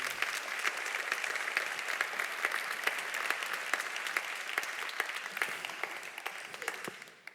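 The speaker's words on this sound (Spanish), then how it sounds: "Un fuerte aplaudimiento." Sustained audience applause at a forum gathering, a dense even patter of many hands clapping with a few sharper claps standing out, holding steady before fading at the end.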